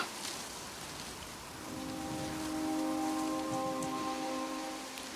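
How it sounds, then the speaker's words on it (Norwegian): Steady rain falls in a quiet outdoor setting, an even wash of drops that swells slightly midway, with a faint low tone running underneath and no voices. "Tenk, det regner."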